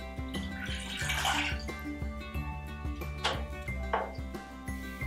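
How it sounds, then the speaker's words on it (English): Water splashes in a steady stream into a cooking pot for boiling, with soft background music underneath and no speech. "Now boil a cup of water."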